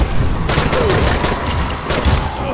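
Rapid gunfire crackles in the Dying Light video game during online co-op multiplayer, loud, dense bursts of shots overlapping continuously.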